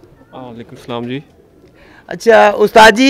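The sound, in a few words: pigeons cooing on a rooftop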